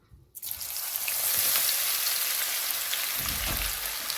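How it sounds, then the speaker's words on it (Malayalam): Crushed garlic dropped into hot oil for masala peanuts, bursting into a loud, steady sizzle after a brief quiet start, with a deeper crackle swelling near the end. "ഇനി ഇതേ ഓയിലിൽ തന്നെ നമുക്ക് ചതച്ച് വെച്ചിരിക്കുന്ന വെളുത്തുള്ളി ഇട്ട് കൊടുക്കാം"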